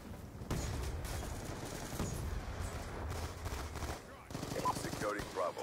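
Rapid automatic gunfire from Black Ops 2 multiplayer, dense rattling bursts with thumps, steady and fairly loud, while someone talks over the shooting.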